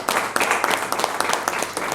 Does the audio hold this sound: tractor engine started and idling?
no